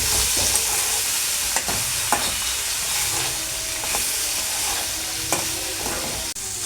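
Broad beans fry with ginger garlic paste under a bright, constant hiss of sizzling, as a spoon stirs and scrapes the pan with a few sharp knocks.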